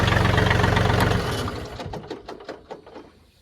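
A John Deere 3032E compact tractor's engine runs loud and steady at a low idle, then winds down and stops in a series of fading knocks and clatters.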